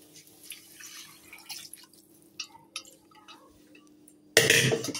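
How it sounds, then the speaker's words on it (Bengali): Leftover potato-boiling water from a pressure cooker is tipped into a cooking pot in a home kitchen: scattered light drips and clinks, then a sudden loud rushing pour at the end. "সেই জলটাই এর মধ্যে দিয়ে দেবো"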